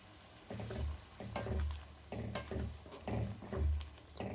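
Meal maker soya chunk gravy boils in a pan while a spoon stirs it, giving soft, rhythmic scraping strokes about once a second over a faint, quiet bubbling.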